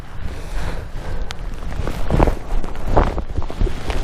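Gusty wind buffets the microphone on the exposed fell top of Great Dodd in the Lake District, a constant low roar with occasional sharper thumps and rustles rising and falling over a few seconds.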